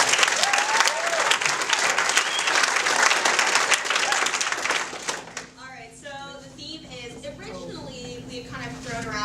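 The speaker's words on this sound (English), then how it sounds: "give Elizabeth a round of applause." A crowd applauds loudly for about five seconds, then the clapping fades and a person starts talking.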